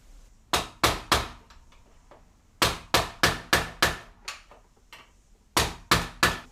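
A stubborn bicycle fork bearing from a Fox fork is knocked out with a flat screwdriver. The sharp metallic strikes come close and loud in quick bursts of three or four, separated by short pauses.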